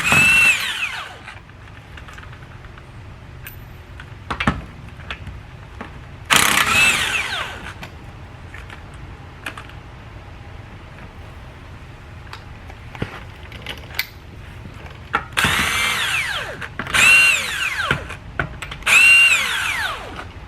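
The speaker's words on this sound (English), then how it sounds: "Next, remove the wheel lug nuts." Impact gun spinning off the rear wheel lug nuts on a 2002-2006 Nissan Altima, several loud close bursts of whirring rattle separated by quieter pauses with small metallic clinks.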